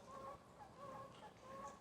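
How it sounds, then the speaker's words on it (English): Ducks quacking near water on a nature walk, repeated short nasal calls in three separate bursts over a faint, steady outdoor background, somewhat distant and fairly quiet. "There's some duck sounds."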